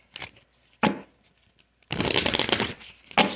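Cards being shuffled in quick riffling bursts: two short snaps, a pause, then a longer crisp flutter of cards and one more brief riffle.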